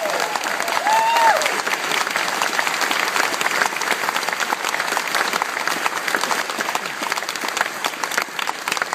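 A crowd gives a big round of applause welcoming congressman Tom Latham at an August 2012 event, with loud, dense, continuous clapping throughout and a brief voice near the start.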